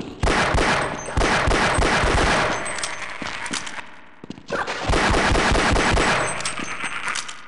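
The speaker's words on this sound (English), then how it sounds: "I don't know how big the explosion's gonna be." Half-Life: Decay co-op gameplay erupts with loud, rapid bursts of gunfire and metallic clanging that drop away briefly, then resume just as dense and close, with no talking.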